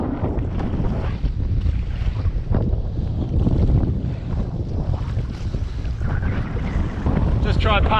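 Steady wind roars across open water around a paddleboard near the Strood on Mersea Island, a continuous blustery rush with choppy waves and microphone buffeting throughout.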